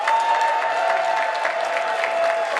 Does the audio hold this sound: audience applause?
yes